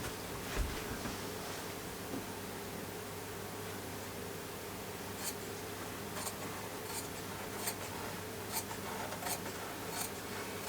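Scissors snip through quilt fabric at close range, a soft steady rubbing hiss broken by a series of quiet, crisp cuts in the second half.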